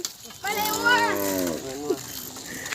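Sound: cattle lowing while being released from the pen

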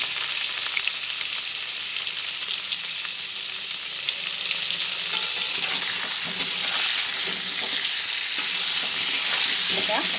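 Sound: pointed gourd frying with turmeric and salt

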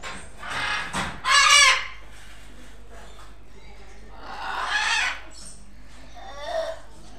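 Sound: blue-throated macaw (Wagler's macaw) calling

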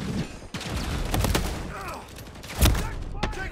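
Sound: gunfire in Call of Duty: Modern Warfare 3 video game

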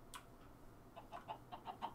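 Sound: chickens clucking in the video game Minecraft

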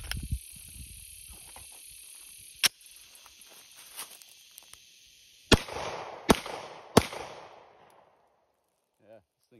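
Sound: Glock 17 pistol shots

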